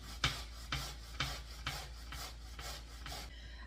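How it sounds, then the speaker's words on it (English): Zucchini rasped against a box grater in steady, regular strokes, about seven close scraping passes at an even rhythm, fairly quiet with no talking. "So I'm just gonna grate, and like I said, we need 2 cups of this"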